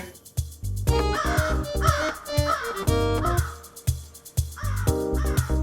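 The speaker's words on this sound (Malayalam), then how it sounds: "കുറേ നേരം കൊണ്ട് കാക്ക ഇരുന്ന് കരയുന്നു" A crow caws repeatedly nearby, loud harsh calls coming in uneven bursts with short pauses between them, no talking over it.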